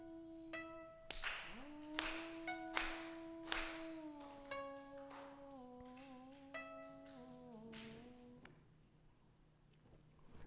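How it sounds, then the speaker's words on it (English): A congregation at a Konko religious service claps hands together four times, with sharp, evenly spaced claps over a sustained chanted voice that trails on after them. "Let us clap our hands 4 times together."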